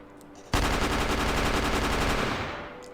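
A UMP 45 submachine gun fires one sustained burst in a video game, a dense rapid rattle of shots that starts abruptly and carries on close and loud before tapering off, with no talk over it.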